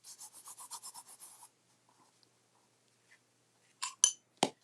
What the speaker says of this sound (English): Give that a rub with the bone folder.